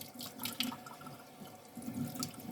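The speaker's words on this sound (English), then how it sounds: "So what I do is I rinse off the edges." Running tap water splashing as a food container's edges are rinsed in a kitchen sink, a steady flow with uneven splashes and drips close by.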